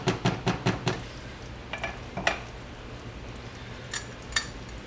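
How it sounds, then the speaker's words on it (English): A spoon clinks against a cooking pot while yellow curry is stirred, several quick sharp knocks at first, then sparser taps and clinks, close and fairly quiet. "Get that stirred in."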